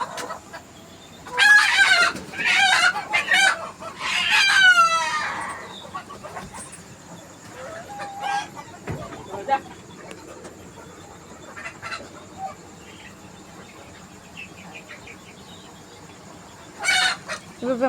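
Layer chickens on a farm cluck and crow in loud bursts early on, then settle into scattered quieter clucks, with a final crow near the end and faint room noise between.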